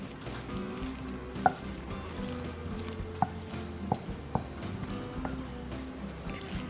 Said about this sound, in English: I'm just going to combine this really, really well. Give it a good stir.